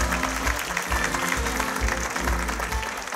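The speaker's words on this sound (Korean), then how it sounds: "다시 한번 환영의 박수를 보내주시기 바랍니다" Fans applaud to welcome board directors at an Incheon United fans' day event, a continuous, moderately loud patter of many hands clapping with a low hum underneath, steady from start to finish.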